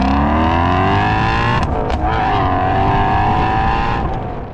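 A 2024 Ford Mustang V8 revs hard and loud up close, a dense, roaring engine note that holds and climbs steadily for several seconds before easing off slightly at the end.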